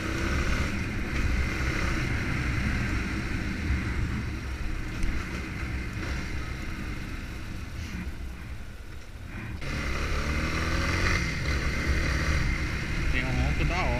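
A Yamaha Fazer 250 cc motorcycle ridden along a road, with engine drone and wind noise running throughout and a short dip in revs before it pulls again. Someone talks over it.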